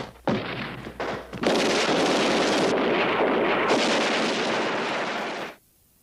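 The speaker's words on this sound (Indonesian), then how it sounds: "Dan tembak-menembak pun terjadi antara polisi dan penjahat." Heavy gunfire from a police-versus-criminals shootout in the comedy film The Gods Must Be Crazy: a loud, dense roar of shots and blasts that surges in after a few short bursts, holds steadily, then cuts off abruptly.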